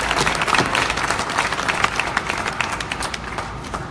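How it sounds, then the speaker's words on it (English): An audience at an independent optics industry panel bursts into sustained applause with some cheering, dense clapping holding loud and steady before slowly tapering. "I think we should give Lou a super cheer"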